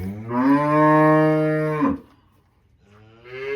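A cow lowing on a farm where cows and calves are kept, one long, loud, close moo lasting about two seconds, followed by a quiet pause and a faint start of another call.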